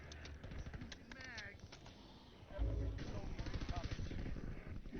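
Gunfire in Call of Duty Warzone crackles in rapid bursts under steady talking, the shots fairly close and mixed with game noise.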